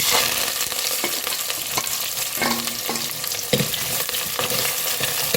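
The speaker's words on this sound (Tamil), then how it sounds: "வெந்தயம் நல்லா பொரியட்டும்" Fenugreek seeds frying in hot oil in a pan for a fish curry, a continuous crackling sizzle with a few light stirring clinks and scrapes, close and unaccompanied by voices.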